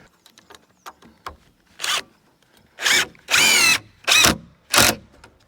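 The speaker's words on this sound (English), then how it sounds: "we're just going to put a couple of screws in this for now" A power drill drives screws into a roof beam in several short whirring bursts of rising and falling pitch, with light taps and handling noises between them, loud and close.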